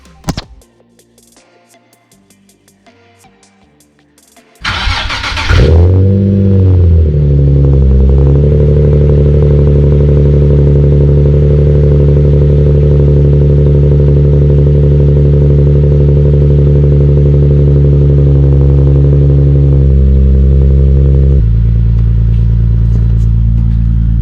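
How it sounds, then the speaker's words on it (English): After a quiet stretch with faint clicks, an engine cranks and fires up loudly, then settles into a steady, rumbling idle that drops slightly near the end. "Let's do a cold start"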